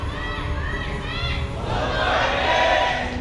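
Audience cheering and shouting at a StarCraft esports match, a crowd roar that swells in the second half with commentators talking over it.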